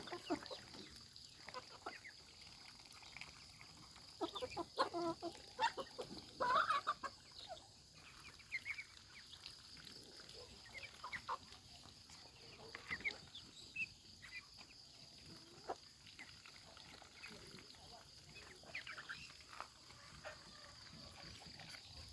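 Chickens cluck intermittently on a rice farm in Laos, scattered faint calls at a moderate distance over a steady rural background hum, with occasional louder bursts and no talk.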